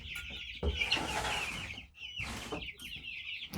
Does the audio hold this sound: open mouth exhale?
no